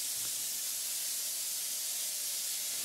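Grit blasting on a stainless steel cooling tower inside a plastic enclosure produces a constant, harsh hiss of abrasive spray, steady and unbroken at moderate distance.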